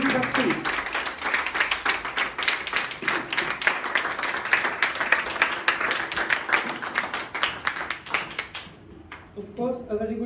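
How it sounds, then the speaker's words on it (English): A room of students and guests at an English speaking practice academy claps for a student, a steady crowd applause about nine seconds long that fades out, followed by a voice starting to speak. "Put your hands together for Ayush Bakshi."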